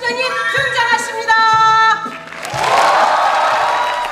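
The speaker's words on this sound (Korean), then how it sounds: "관객들의 힘찬 박수갈채 속에 드디어 뮤지컬의 막이 올랐습니다" Audience applause at a musical as the show begins, a broad wash of clapping that swells in after sustained sung or orchestral tones and continues steadily, fairly loud and close, with no talk over it.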